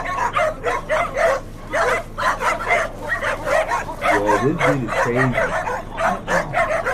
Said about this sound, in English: Now he's sitting there messing with dogs.